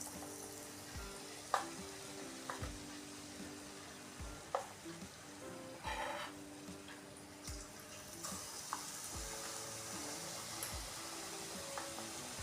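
Batata vada, potato fritters in gram flour batter, slipped into hot oil in a kadai and fried, giving a steady bubbling sizzle with a few sharper pops and spoon clinks throughout.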